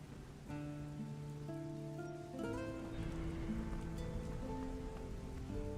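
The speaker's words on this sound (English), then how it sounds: "I'm pretty sure that doesn't protect from the rain." Steady rain patters continuously across surfaces in the video game Risen, a dense hiss under sustained tonal game music, with no talk.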